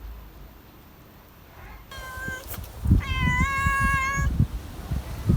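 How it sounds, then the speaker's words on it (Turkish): A cat meows in a long, steady tone, then another clear, stretched meow follows, with gusty wind rumbling underneath. "Şu anda 4 kedi burada var."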